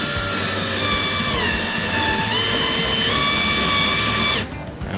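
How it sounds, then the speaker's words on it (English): A power drill whines loudly and steadily, its pitch shifting slightly as it drives a screw into a backyard patio RC rock crawling course, then stops abruptly near the end. "And now we can get our first screw started in here."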